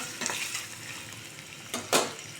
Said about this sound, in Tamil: தேங்காயை லைட்டாக ஃப்ரை பண்ணிங்க